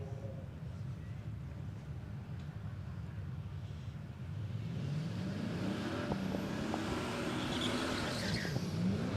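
Drag racing car launching from the start line at Palmyra Raceway, tyres spinning, with a continuous loud engine roar that builds and rises in pitch partway through, heard from a distance amid wind noise.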